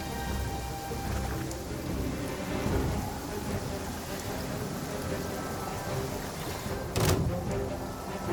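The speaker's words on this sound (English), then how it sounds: "Thunder!" Steady rain hisses through a Genshin Impact storm scene, with a sharp crack of thunder bursting near the end over the constant downpour.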